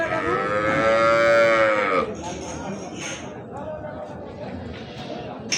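A cow at a livestock market lets out one long, loud, close moo, followed by quieter crowd noise with people talking and a faint distant bleat.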